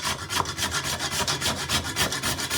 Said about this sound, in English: we're going to grate using this time the Deiss